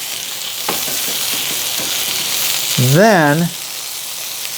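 Halibut fries in oil on a hot griddle, a steady bright sizzle that keeps going throughout, with a brief spoken word near the end.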